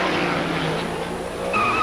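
Race car number 51 spins sideways at the 1982 Trois-Rivières street race, its tires skidding and squealing loudly under a roaring engine in one short burst.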